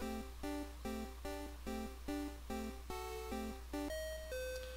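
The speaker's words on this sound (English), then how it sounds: "Ding dong! Time's up. Your safari game is over." A Game Boy-style chiptune jingle from Pokemon Red marks the end of a Safari Zone game, a bright rhythmic run of about ten repeated electronic chime notes that climbs, then settles on two longer closing tones, clear and alone.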